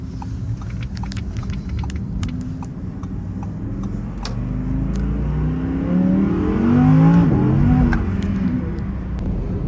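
A car accelerates hard on a wet road, its engine rumble rising to a loud rev midway, with steady road noise and faint ticking throughout.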